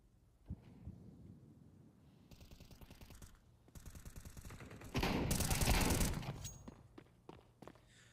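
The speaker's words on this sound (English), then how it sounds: "Hear the sound of shotguns ring through" Shotgun fire in a Counter-Strike 2 esports match, a burst of sharp reports and rattling gunfire building to a dense, loud volley near the end, with scattered footsteps and game ambience around it.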